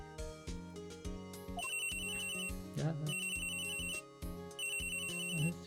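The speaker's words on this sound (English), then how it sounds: "Oh, that's your cell phone." Electronic cell phone ringtone in Phoenix Wright: Ace Attorney, a loud looping melodic chime that repeats in bright bursts over a steady game backing tone, with no voices.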